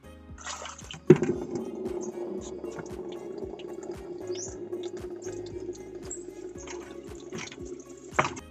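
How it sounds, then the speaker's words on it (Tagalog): Water being drawn and poured in a home kitchen for washing dishes, with splashing and trickling running steadily under a sharp clank near the start and another near the end, birds chirping faintly in the background. "nag-igib na ako ng tubig para may panghugas na ako ng mga plato"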